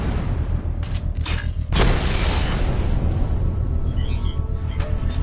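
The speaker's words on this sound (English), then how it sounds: "I can use the power winch to trigger a controlled explosion" A bomb blows up in the video game Batman: Arkham Knight, a loud deep boom after a few sharp mechanical clanks, then a long rumbling tail over steady game noise.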